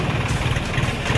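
An 855 FP Saurashtra new-model tractor engine idling close by, a loud, low, steady chugging with rapid even pulses and no talk over it.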